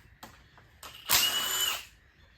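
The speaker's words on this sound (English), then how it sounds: "Before someone tells me not to use chrome sockets on an impact driver, I'm not ramming it." An impact driver fitted with a chrome socket works on a small-block Mopar engine: a couple of short mechanical taps, then a loud, close whirring burst of about a second that cuts off, with no talking.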